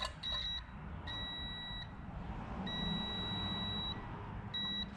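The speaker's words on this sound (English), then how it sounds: "take my multimeter, set it to continuity, and I'm just going to make contact with the original point that was grounding out this machine" A multimeter set to continuity beeps in short, faint, high-pitched tones against a steady hum as probes touch a grounding point on a small engine machine.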